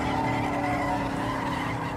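A Ford Focus RS in drift mode screeching its tires, with a loud continuous squeal over a roaring engine close by.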